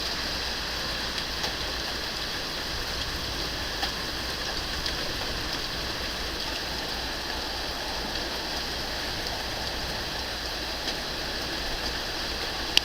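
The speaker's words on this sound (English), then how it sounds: "but the rain still isn't gone" Steady rain falls during a storm, a constant, even hiss of drops on surfaces with no other sound over it.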